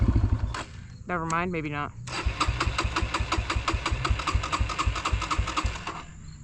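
A cold dirt bike engine with the choke on cranks with a whirring starter, then catches and idles in a fast, loud, pulsing chug close by, as a person speaks briefly.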